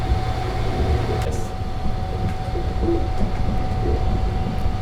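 Sunrise Express overnight sleeper train running on rails out of Kyoto, a steady low rumble with a faint high whine and scattered rail clicks, heard from inside the carriage with no talk.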